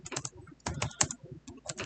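Fast, close clatter of keys as code is typed on a computer keyboard, in bursts of several quick strokes separated by brief pauses, with no voices.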